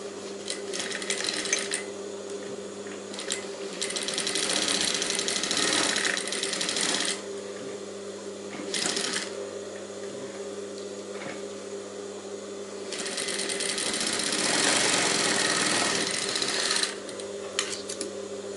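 A sewing machine stitches half-inch-spaced strips onto the back panel of a high-neck blouse, running in long steady bursts with brief pauses between, close and alone.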